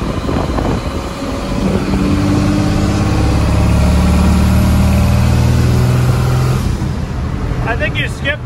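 A squarebody Chevy truck engine runs steadily in fourth gear with a loud, continuous mid-low drone and a rising rev. Near the end it drops away and a voice speaks.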